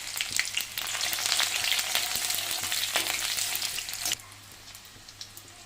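Garlic and ginger fry in groundnut oil in a kadai, a loud, dense sizzle with scattered spatters that drops abruptly to a quieter crackle near the end; no voices.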